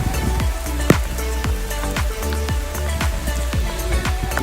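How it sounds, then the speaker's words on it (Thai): Rain falls outdoors at a site where a TL3000 land-leveling machine is being delivered in Myanmar, a dense, steady patter of close drops hitting surfaces, with no talking. "ฝนมาครับผมตอนเนี้ย"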